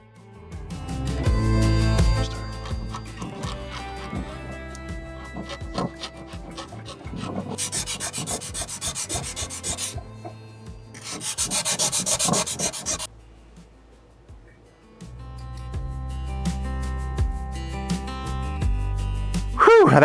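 Old gasket is scraped off the ceramic rim of a Big Green Egg, with bursts of harsh rasping and rubbing strokes, close and loud, separated by pauses and light handling noise.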